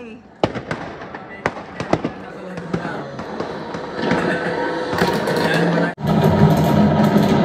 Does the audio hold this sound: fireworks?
yes